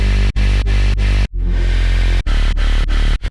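Two layered Serum 2 bass synth patches in a heavy bass-music style play loud, buzzing chopped notes in a rhythmic pattern, with one longer sustained note and short gaps between hits.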